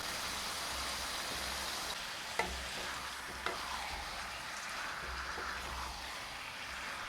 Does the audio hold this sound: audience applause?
no